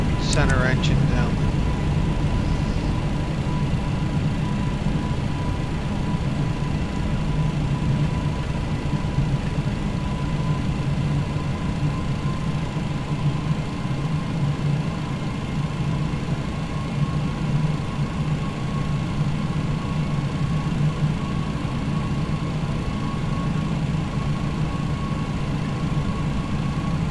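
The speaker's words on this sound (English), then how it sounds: "Shut the center engine down." MD-11 airliner engines idling after the center engine is shut down in Microsoft Flight Simulator, parked near other jets at an airport; a steady, loud low rumble with a sustained mid-pitched whine, continuous for the whole stretch.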